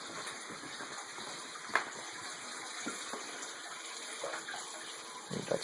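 Water runs steadily from a Python aquarium filler hose during a 75-gallon tank fill, a soft continuous splashing gush with small bubbling bursts, fairly quiet and close.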